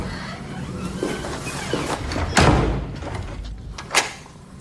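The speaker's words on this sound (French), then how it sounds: "Mais il faut que tu fermes la porte." A door is pulled shut with a solid thud midway through a quiet room, followed by a smaller knock a moment later; nobody speaks.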